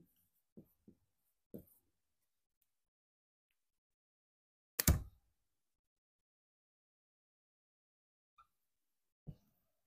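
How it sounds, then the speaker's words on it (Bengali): Pen writing on paper with inks of three colours, heard as a few sparse, faint scratches and taps separated by silence, with one sharper louder knock midway. "দেখো কালার ট্রিক্স এখানটায় আমি 3 রকম কালি দিয়ে লিখলাম"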